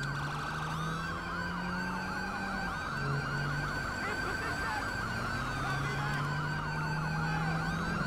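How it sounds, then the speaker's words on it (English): A police car siren in the video game Grand Theft Auto V wails loudly and continuously, sweeping up and down in a fast yelp pattern over steady engine and road noise from a pursuit. "That siren just sounds weird."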